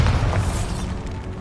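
A booming Bombarda spell blast in the video game Hogwarts Legacy, one heavy low explosion at the start that rumbles and fades over the following second, with no talking.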